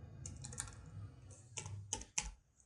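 Close, quiet keystrokes on a computer keyboard as a username is typed in, irregular bursts of clicks with a couple of sharper taps toward the end, no voices.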